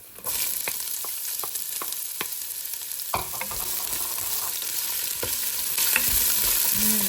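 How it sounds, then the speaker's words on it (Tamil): Chopped onions dropped into hot oil with frying garlic for rava upma, setting off a steady sizzle with sharp clicks of a spoon stirring against the pan, growing louder toward the end. "இப்போ உள்ளி பொரிஞ்சு நல்ல ஒரு வாசனை வரைக்க வெங்காயத்தை போடுவோம்"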